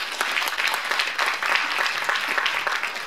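Concert audience applauding at a Korean traditional-sound arts performance, a dense, steady wash of many hands clapping at close range throughout, with no voices standing out.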